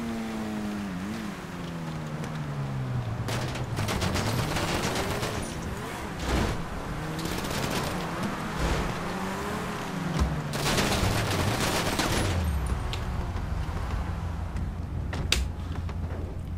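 Rapid bursts of machine pistol gunfire crackle through a snowy scene in GTA 5 Online, sounding under a constant engine drone with shifting vehicle whines and scattered sharp impacts.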